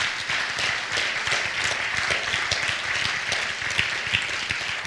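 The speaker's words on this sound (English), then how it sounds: "Can you clap your hands and thank the Lord for that?" A church congregation claps its hands in steady, dense applause at a moderate distance, a continuous wash of claps with no talking over it.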